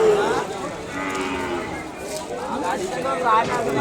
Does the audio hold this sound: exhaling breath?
no